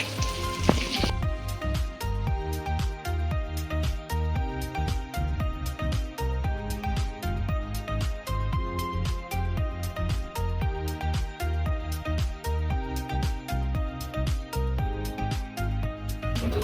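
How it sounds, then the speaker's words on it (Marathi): Fresh surmai fish coated in spicy masala with lemon frying in a pan: a steady, dense sizzle with crackling oil pops, close and continuous throughout, with no voices. "आपली फिश फ्राय झालेली आहे इथं मस्तपैकी"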